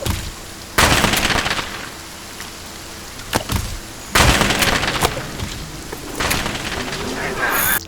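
Scatternuts in Monster Hunter burst open loudly in several separate sharp explosive cracks, each with a noisy crackling tail, spaced a second or two apart over a softer rustling background.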